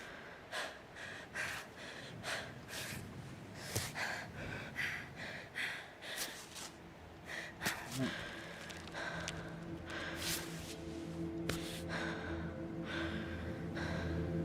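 A female climber character in the game Cairn breathes hard while scaling a rock face, with repeated gasps and snorting exhales in an uneven rhythm, close and fairly loud over a steady ambient hum.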